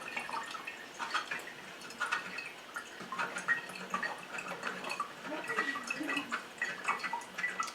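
Cold brew coffee drips steadily through a filter, a quiet scatter of small irregular liquid ticks and patters repeating close by with no one talking.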